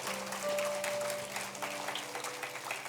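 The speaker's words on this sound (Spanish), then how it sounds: "Dale un aplauso al Señor, vamos." Applause from a church congregation during a sermon on the Gospel of Luke, a dense, continuous wash of many hands clapping at once, steady and moderately loud.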